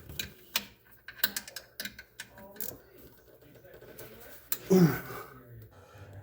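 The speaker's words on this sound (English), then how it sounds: "We are using a 1/4-inch ratchet here to torque her down so we don't snap her off." A 1/4-inch ratchet tightens an alternator bracket bolt on a Case SR175 skid steer engine, sounding as a series of sharp, close clicks in short bursts with pauses, followed by a brief louder rustle.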